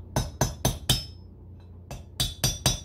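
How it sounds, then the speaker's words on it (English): Sharp metallic taps from a small hammer on a bearing race, four quick strikes, a brief pause, then four more in a steady rhythm, close and clear. "just a little hammer, something to tap it with"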